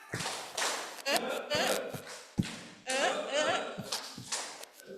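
At a webinar on waste status and classification held by Bestari Casa Laboratory, an audience does a 'tepuk semangat' spirit clap, with rhythmic groups of sharp, close claps and taps mixed with voices chanting along.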